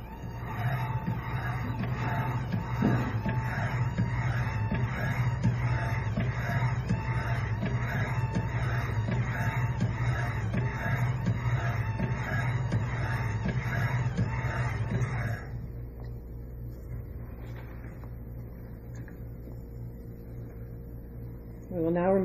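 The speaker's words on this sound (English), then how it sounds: "You will now turn the pump on" The pump of an Elcometer 1720 test apparatus runs with a steady, rhythmically pulsing mechanical drone. It cuts out after about fifteen seconds, leaving a quieter background hum.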